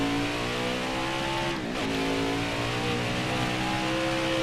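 A racing truck's engine roars at Mid-Ohio in the NASCAR Heat 5 video game, holding a loud, steady high-revving tone with a brief dip as the throttle eases, then climbing again.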